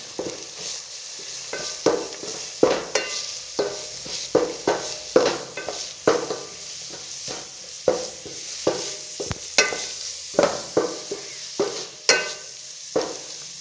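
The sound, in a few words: stirring onions and carrots in a pan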